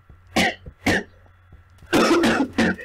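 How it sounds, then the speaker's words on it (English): Several harsh coughs from a sick person ring out, two sharp single bursts followed by a longer, rougher fit of coughing, close and loud with no talking. "Coughing my heart out and all that crap."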